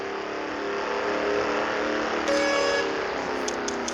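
A drag car in a street racing video game revs hard and steadily, then jolts as it shifts gear, the engine tone briefly changing pitch before climbing again, loud and close with no talking.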